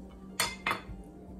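Pots and utensils clink twice in quick succession, close and fairly loud, as Punjabi-style mixed vegetable sabzi is dished out, with quiet kitchen background between the hits.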